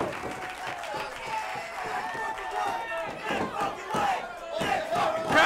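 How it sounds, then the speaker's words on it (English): A wrestling crowd roars and cheers in a steady swell throughout a professional match, the noise rising toward the end while a commentator talks over it. "Crowd getting behind Nick Wayne, giving him that encouragement."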